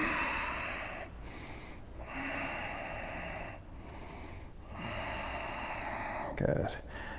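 Deep, steady breathing during a strong yoga flow class: long breathy inhales and exhales in a slow, even rhythm, close and soft, with one louder sharp breath near the end.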